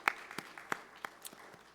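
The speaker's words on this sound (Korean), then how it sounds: "우리 방송실 위해서 박수 한번 하십시다" A church congregation clapping during a Sunday service, a sparse, thin patter of scattered claps from a small crowd heard at a distance.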